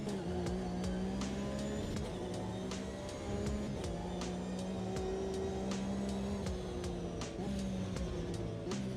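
A race car engine from a racing video game, a 3.8 model like those run at Silverstone, revs and drones steadily with shifting pitch, rapid gear changes and faint tire noise throughout.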